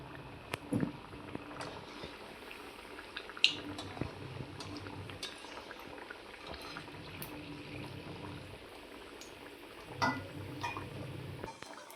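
Methi and bajra vada frying in oil over a low gas flame, a soft continuous bubbling hiss with occasional sharper pops and clicks, close and quiet, no talk.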